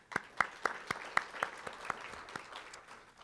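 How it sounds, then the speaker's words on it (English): Scattered clapping from a small audience at a small business conference, a handful of distinct, sharp claps at a fairly regular pace that thin out and fade, quiet and somewhat distant in the room. "Let's give them a round of applause."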